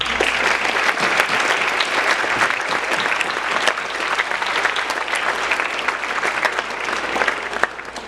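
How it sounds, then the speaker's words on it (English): Audience applause after a Veterans Day speech: steady, dense clapping from a large crowd that holds at an even level for about eight seconds with no talking over it. "please give a round of applause to Mrs."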